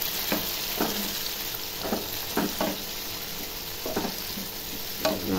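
Chopped onions and tomatoes frying in a pan for hotel-style egg gravy, stirred with repeated scraping strokes over a soft continuous sizzle, fairly quiet and close.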